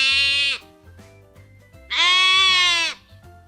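A lamb bleats twice, loud and close: a short wavering call followed by a longer, sustained quavering bleat, with soft background music beneath.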